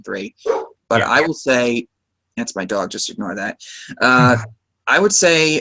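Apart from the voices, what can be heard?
dog barking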